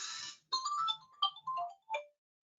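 A work mobile phone's ringtone plays during a hospital-technology webinar, a melodic run of bright electronic tones in short bursts with brief gaps, clear and alone before cutting off.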